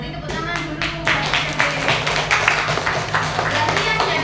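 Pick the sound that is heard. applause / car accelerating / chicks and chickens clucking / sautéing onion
applause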